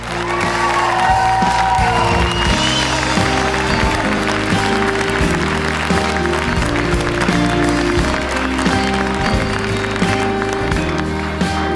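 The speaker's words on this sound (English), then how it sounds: "Will you please give a round of applause for Megan Miller?" Audience applause at an awards show fills the space loudly and steadily, with cheering voices mixed in and a strong tonal music bed running underneath the clapping throughout.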